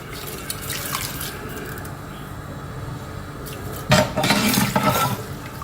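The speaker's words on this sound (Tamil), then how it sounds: "இது பாசுமதி அரிசி கரெக்டாக தான் தண்ணி ஊற்றணும்" Water poured into a cooking pot for basmati rice, a steady splashing trickle with a louder, fuller gush of pouring near the end, heard close with no talking.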